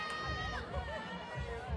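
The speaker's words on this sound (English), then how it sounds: "Cheering her on, very loud, Cortland." A loud crowd cheers on a gymnast at a women's college gymnastics meet with Cortland, a dense wash of shouting voices and chatter that continues steadily throughout.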